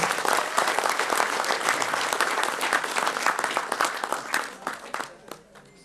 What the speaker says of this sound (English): So give a big round of applause to our icons